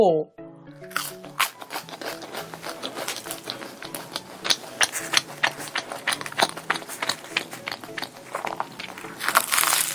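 Continuous crisp crunching of someone biting into a crusty cream cheese baguette, dense crackly bites close to the microphone with no talking.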